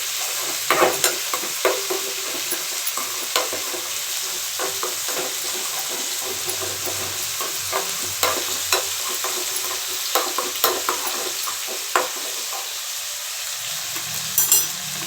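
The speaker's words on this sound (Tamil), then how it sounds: "கத்திரிக்காய் வதங்கட்டும்." Eggplant pieces sautéing in a pan for a Tamil eggplant fry, giving a continuous close sizzle broken by frequent sharp scrapes and taps of the stirring spoon over about fifteen seconds.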